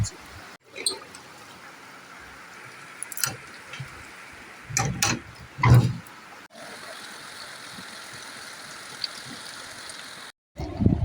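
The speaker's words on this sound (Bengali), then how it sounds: "কীরকম বৃষ্টি হচ্ছে দেখো প্রত্যেক দিন এরম টাইমে বৃষ্টি খুব খুব বৃষ্টি হচ্ছে" Heavy evening rain falling outside a window, a steady hissing wash throughout, with a few brief knocks and clatters nearby as windows are shut.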